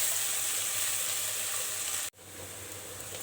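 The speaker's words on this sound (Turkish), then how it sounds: "Şimdi bunları bir güzel kavuralım arkadaşlar." Garden greens sautéing in a pan in a village kitchen, giving a steady close sizzle and frying hiss that breaks off for an instant near the end and then resumes.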